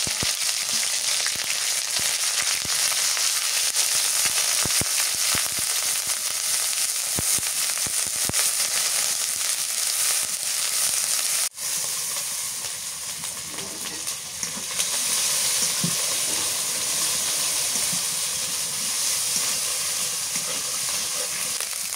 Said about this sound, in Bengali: সরিষার তেল দিয়ে দিই। তেলের মধ্যে পেঁয়াজ বাটা দিয়ে দিই, আদা রসুন বাটা, জিরা বাটা।